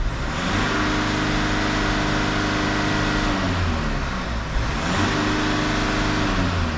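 The diesel engine of a high-mileage Mercedes Vito van is held at a steady high rev of about 3000 RPM, giving a loud, constant droning hum that dips briefly and then picks up again.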